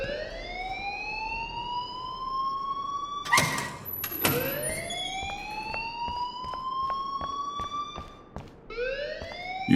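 A loud electronic alarm rings inside a school building in the Life Is Strange video game, repeated rising wailing tones sweeping upward in cycles, broken briefly by a couple of sharp clatters midway.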